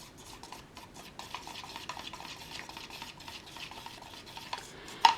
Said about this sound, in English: You gotta really, really spend a good amount of time mixing these two up.